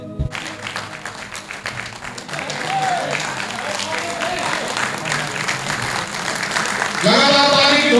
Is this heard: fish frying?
no